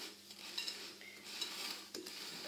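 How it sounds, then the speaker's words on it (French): Apple walnut cake batter is stirred in a bowl, the utensil scraping and clinking softly against the sides in a steady, close rhythm. "je vais continuer à mélanger jusqu'à ce qu'on obtienne une pâte parfaitement homogène"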